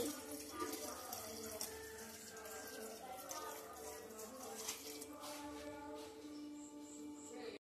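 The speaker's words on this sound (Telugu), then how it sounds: "గ్లాస్ నీళ్లు పోసుకోవాలి బెల్లం కరగడానికి." A glass of water poured onto jaggery in a pan while making appalu, a quiet continuous splashing trickle lasting several seconds before stopping abruptly.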